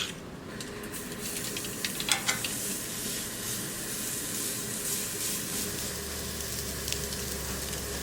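Za'atar-seasoned ribeye steak sizzling on the grill, a steady dense frying hiss throughout with a few brief scraping clicks early on.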